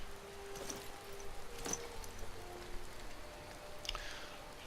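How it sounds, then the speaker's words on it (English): Rain falling in the video game Skyrim near Riverwood, a soft steady patter of drops with a few sharper splashes, faint and continuous with no talk. "Of course it's still raining."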